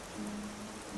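Steady soft rain hiss inside the video game Skyrim, a continuous even wash of falling drops with a faint low tone running beneath, no voices.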